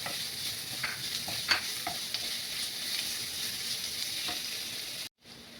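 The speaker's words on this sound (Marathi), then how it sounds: "आणि हा कांदा चांगला परतून घ्यायचा आहे" Onion frying in a pan for a pasta dish gives a soft continuous sizzle with a few light stirring clicks, fairly quiet and close, cutting out briefly just before the end.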